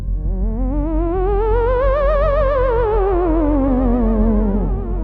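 Theremin playing a phantom, spooky tone: a single wavering, vibrato-laden note that slowly rises then glides back down over several seconds, alone and fairly loud, with a slight echoing quality.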